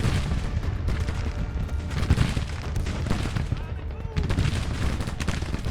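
Dense, continuous gunfire and booming blasts roll through a large-scale battle simulation game with huge armies, a steady loud clatter of volleys with no break.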